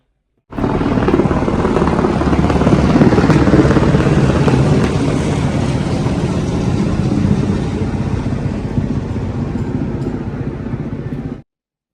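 A helicopter flies overhead on the Kedarnath pilgrimage route, giving a loud, continuous rotor and engine roar that holds steady for about eleven seconds and then cuts off.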